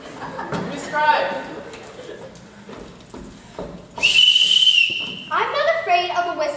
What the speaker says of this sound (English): I'm not afraid of a whistle